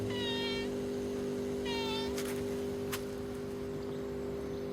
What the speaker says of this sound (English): The pussy cat from next door comes up to see me.